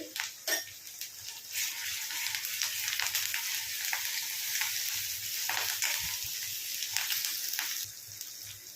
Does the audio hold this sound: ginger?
yes